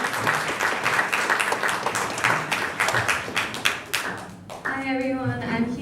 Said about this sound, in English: So if everybody can give a round of applause to Kiana.